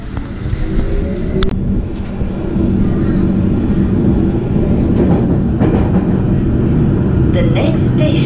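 A train runs along the rails with a continuous low rumble and rolling noise inside the carriage, plus a few sharp squeals and clicks from the track and faint background talk.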